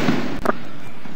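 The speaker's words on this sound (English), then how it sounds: "a gunshot boomed nearby" A single sharp gunshot booms near a public housing project, one abrupt crack cutting through steady outdoor background noise.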